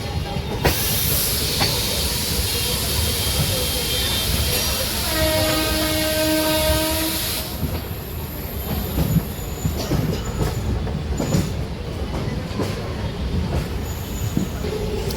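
An MMTS local train at Secunderabad railway station rolls loudly with a continuous hiss and rumble, and a sustained tonal squeal of wheels midway. The hiss cuts off abruptly, leaving clattering, knocking rail noise.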